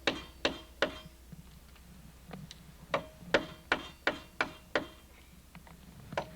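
Sharp hammer blows strike a chisel against a knot on a log at an Appalachian log cabin build, a dozen or so crisp, ringing impacts in an irregular rhythm, close and fairly quiet, with short pauses between strikes.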